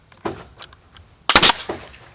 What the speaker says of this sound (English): And now we just use our little strap shot.